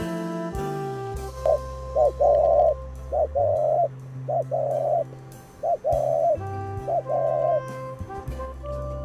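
A dove coos in a series of short, rhythmic, hollow calls repeated about a dozen times, with a steady low tonal drone underneath.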